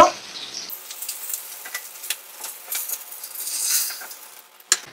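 Fish frying in hot oil in a pan gives a soft, steady hiss and crackle close by at low volume, with a short metallic clink near the end.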